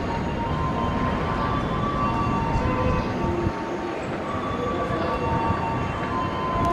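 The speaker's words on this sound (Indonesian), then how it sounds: "Kereta lokal dari Bandung arah Padalarang." A local train runs from Bandung toward Padalarang, its steady loud rumble and rolling noise continuous throughout, with faint thin tonal squeals riding above it.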